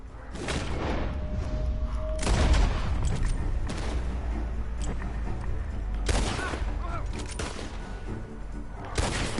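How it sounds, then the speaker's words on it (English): Several sharp gunshots in Red Dead Redemption 2 crack out from a barn at irregular intervals over a low rumbling background, some loud and close, others duller and farther off. "The gunshots are coming from that barn."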